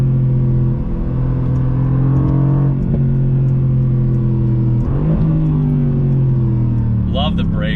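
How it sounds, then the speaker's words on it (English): Twin-turbocharged V8 of a 2019 Mercedes-AMG GT R in manual shift mode, a steady loud engine drone with rising harmonic sweeps as it accelerates through gears, heard from inside the car with brief talk. "Great sound of that V8,"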